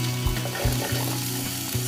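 Onions fry in a pan for paella, a close steady sizzle with a few soft stirring scrapes at regular intervals, no voices.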